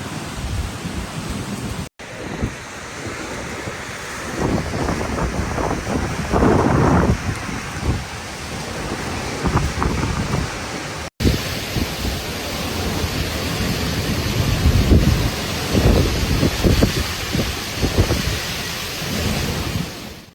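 Typhoon Sinlaku lashing a Mariana Islands coast, with roaring wind and heavy surf blown across the shore in a dense, continuous wash of noise that swells and surges throughout, loud and unbroken, with no voices.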